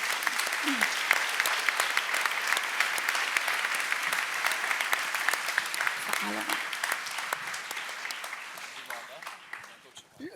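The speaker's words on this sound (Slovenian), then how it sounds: "En aplavz za mlade pevke" An audience at an evening talk event applauds young choir singers, sustained dense clapping from a sizable crowd that gradually thins and fades toward the end, with faint voices underneath.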